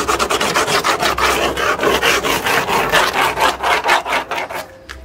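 A rock is rubbed back and forth against a freshly laid cement surface to sand it, giving loud, close, rhythmic gritty scraping strokes, about twenty in quick succession, with no talk.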